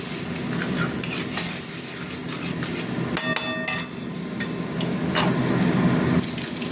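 Spice paste fried in a pan with a little water and salt, giving a steady close sizzle with stirring and occasional sharp scrapes and clinks of a utensil against the pan.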